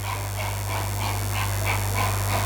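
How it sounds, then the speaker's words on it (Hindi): Dogs bark and yip in a rhythmic series of moderately loud calls, about eight in a row, over a constant low hum. "रोज हमारे ऊपर भौंकते हैं"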